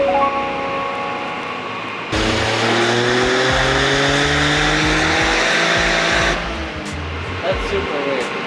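A 2023 Toyota GR Corolla revs hard on a dyno in two-wheel drive mode, its loud engine climbing steadily through the gears for several seconds before easing off, with faint voices around it.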